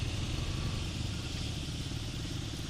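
A 2022 KTM 200 Duke single-cylinder motorcycle engine runs steadily while riding, a continuous mid-low throbbing drone with rumbling pulses and wind noise, fairly close and constant throughout, with no talking.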